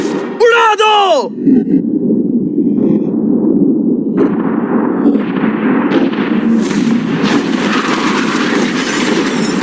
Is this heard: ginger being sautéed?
no